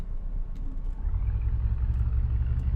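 A car engine starts up in the video game Car Mechanic Simulator 2018, a low rumble that swells after a second and settles into a steady, loud idle drone.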